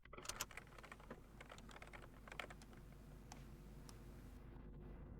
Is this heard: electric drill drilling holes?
no